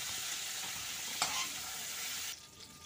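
Cumin seeds, whole garam masala and chopped onion hit hot oil for a Bengali prawn malai curry, giving a steady close sizzle with a brief sharp crackle burst partway through, then quieter frying.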